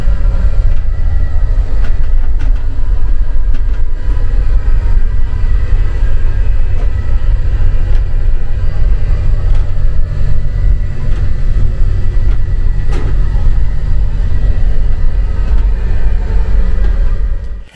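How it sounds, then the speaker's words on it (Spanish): Steady, loud engine drone and road rumble of a worn Irizar coach bus, heard from inside its onboard toilet, continuous throughout with occasional rattles and no talking. "les mostraré las tomas del baño con sonido ambiental para aquellos amantes de escuchar el motor de los autobuses"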